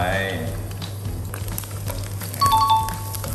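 Garlic sizzles and crackles in a hot pan with a steady frying hiss, with clinks of a utensil and some talk in the background.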